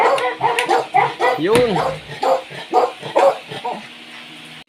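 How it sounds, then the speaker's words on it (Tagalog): Several household dogs bark and yip in repeated bursts close by, with one rising whimpering yelp partway through, while a person talks over them. "Mga aso ko."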